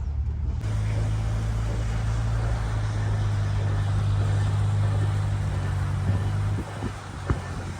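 A steady engine drone with a deep low hum runs continuously, close by, as a G35 car is towed with a tow strap, easing off near the end with a couple of faint knocks.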